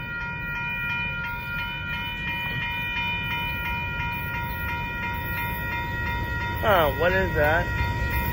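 A northbound BNSF grain freight train rumbles past close by at a road crossing in Austin, Texas, its wheels droning steadily under a sustained tonal whine, with a wavering horn near the end and a voice briefly speaking.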